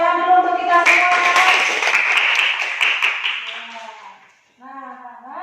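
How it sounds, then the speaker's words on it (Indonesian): Classroom of children clapping together for about four seconds, a dense burst of hand claps under continuous voices, then a teacher's voice speaking alone as the clapping fades. "Tepuk tangan dulu untuk kita semua."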